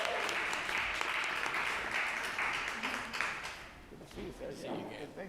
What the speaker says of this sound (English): Round of applause for the Veterans Council of Chatham County.